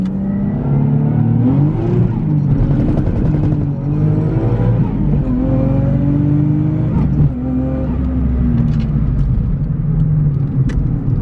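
Toyota JZX100 with a modified, boosted engine held at a high idle, a loud close drone with a shrill wavering scream riding above it, steady and unbroken throughout.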